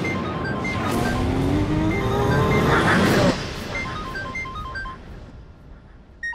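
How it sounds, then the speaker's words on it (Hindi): A mobile phone rings insistently with a repeating electronic ringtone over background noise, with a louder burst of sound partway through before the tone continues more faintly. "कब से मेरा फोन बज रहा है, इधर लेके आ।"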